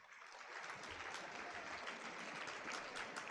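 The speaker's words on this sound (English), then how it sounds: "Let's give them a round of applause." Loud, sustained applause from a high school assembly crowd in Pueblo County, clapping for students who reached the Stellar Explorer National Semifinals; dense, even clapping with a few sharper claps and no talking.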